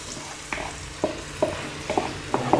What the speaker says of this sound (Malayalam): ഇഞ്ചിയും വെളുത്തുള്ളിയും അതിലേക്ക് അമ്മ ഇഞ്ചിയും വെളുത്തുള്ളി ഇട്ടിട്ടുണ്ട്